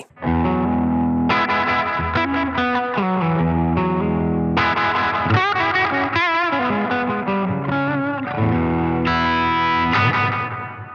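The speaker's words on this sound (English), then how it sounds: "the reverb signal is actually going to run into the delay" Electric guitar through a NUX Atlantic pedal, its reverb feeding into delay, loud overdriven chords and single-note lines trailing repeating echoes and a wide ambient wash, played alone without speech.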